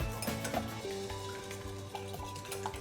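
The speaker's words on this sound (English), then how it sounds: "We are going to whisk up 4 egg yolks." Four egg yolks are whisked in a bowl for a Christmas pudding, giving quick, repeated light tapping and scraping strokes at close range. The strokes run over a steady low hum.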